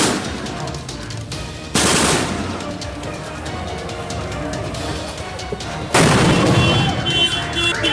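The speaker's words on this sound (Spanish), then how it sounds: "Ya están habiendo bombas, balazos" Gunfire and explosions ring out during Colombian marine combat training, with loud bursts striking at about two and six seconds over a steady crackle of shots and shouting voices.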